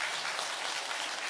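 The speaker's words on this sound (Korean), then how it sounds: "박수 좀 부탁드리겠습니다" Applause from an audience at a Lenten special lecture on hospice care in a church setting, a steady dense wash of clapping filling the short clip without pause, at moderate loudness.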